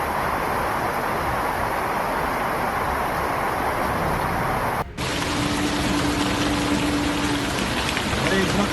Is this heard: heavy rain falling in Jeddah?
yes